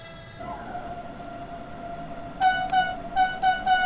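Two-tone German train horn sounding in Train Sim World 2 on a Munich–Augsburg route, a steady tone first, then four short sharp harmonic blasts in quick succession, loud and close over a low running rumble.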